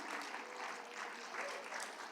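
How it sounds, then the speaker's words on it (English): A convention panel audience applauds sponsors and attendees, a brief burst of crowd clapping heard from a distance at moderate volume. "Give yourselves a huge round of applause."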